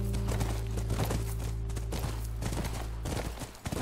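Horse hooves clip-clopping at a ranch in The Last of Us video game, a steady run of dense hoofbeats under a loud, constant game soundscape with low engine-like drones.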